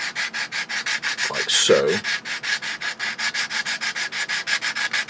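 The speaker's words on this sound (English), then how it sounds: "Now it's simply a case of prepping each of the surfaces with a pretty vicious 36 grit piece of sandpaper" Coarse 36-grit sandpaper rubbed by hand across a surface while preparing a custom ferro rod, a steady rhythmic scratching of back-and-forth strokes throughout, close and fairly loud, with a brief voice partway through.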